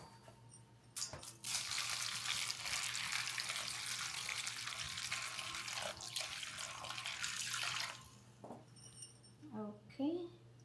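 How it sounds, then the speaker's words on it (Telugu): Water pours into a bowl over a lump of jaggery, a steady close splashing stream lasting several seconds before stopping, followed by light handling sounds. "బెల్లం వేసిన తర్వాత వాటర్ పోస్తాను ఇది కరగటానికి."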